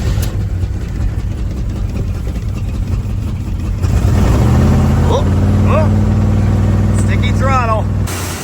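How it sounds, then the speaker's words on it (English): A long-dead 1980 Jeep J10 engine cranks and then catches, running rough and uneven as if missing a cylinder or two, a loud continuous rumble with a voice speaking over it partway through. "This thing does not crank nice at all."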